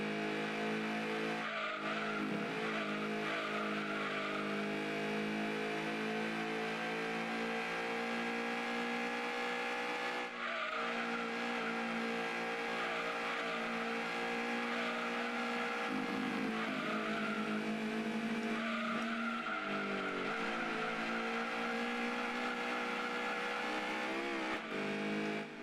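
A Lancia Stratos race car in Gran Turismo 2 screams through its gears, the engine note rising and falling continuously with brief tire squeals as it overtakes and brushes the wall.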